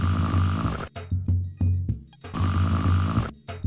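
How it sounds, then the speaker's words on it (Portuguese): A cartoon monkey snoring while asleep on a tree trunk in a Brazilian animated short, loud rhythmic snores repeating in several long drawn-out cycles with brief gaps between breaths, no speech. "o Hug viu a macaca puxando um ronco no tronco"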